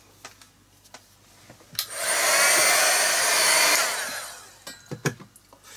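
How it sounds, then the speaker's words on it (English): Hair dryer blowing on a mixed media art journal page: a loud, broad whooshing roar switches on for about two seconds and stops, with small handling knocks and taps before and after. "So now what I want to do is just dry that off."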